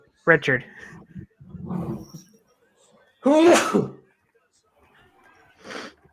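A sharp burst at a live wrestling-show reaction broadcast, loud and close, set among casual conversation with people talking before and after it.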